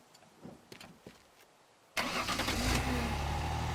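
A car engine in the Teardown video game, slowed heavily by a time-freeze mod, roars in abruptly and loudly after a few faint scattered clicks, then holds a steady, dense, low droning rumble.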